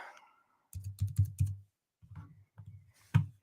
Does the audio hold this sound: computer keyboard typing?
yes